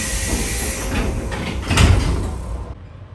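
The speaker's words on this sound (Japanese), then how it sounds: "発車時刻になったら電車の扉が閉まります。" Sliding doors on a JR Shikoku electric local train close at Kotohira station before departure, with a short rumbling thud as they shut, heard close against a steady background hum of the station.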